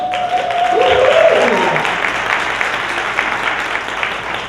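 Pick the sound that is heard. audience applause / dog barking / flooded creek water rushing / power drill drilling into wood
audience applause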